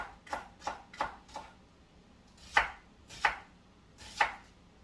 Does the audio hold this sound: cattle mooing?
no